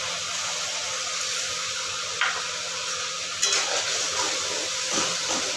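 Tomato paste going into a fish jhal curry in the pan: a steady, moderate sizzle and bubbling with occasional stirring scrapes, no voices.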